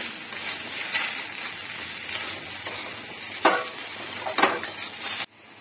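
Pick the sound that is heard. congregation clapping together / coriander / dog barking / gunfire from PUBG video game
coriander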